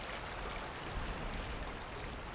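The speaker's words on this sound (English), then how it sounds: "One waterway is still carving its path through Zion." The Virgin River flowing through Zion canyon, a steady broadband rush of moving water that continues evenly throughout with no voices.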